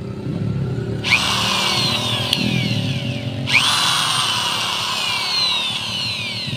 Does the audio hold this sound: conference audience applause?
no